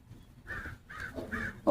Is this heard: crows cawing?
yes